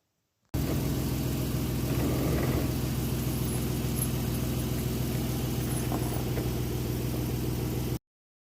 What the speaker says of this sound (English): Drive a little forward.